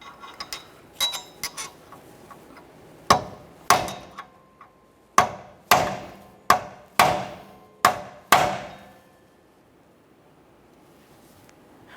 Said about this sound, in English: We need to use a hammer and punch and drive the nut into that area